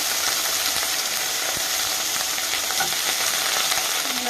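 Brinjal pieces frying in hot oil with green chillies and tomato, a steady close sizzle and crackle running throughout with faint stirring clinks, no talk.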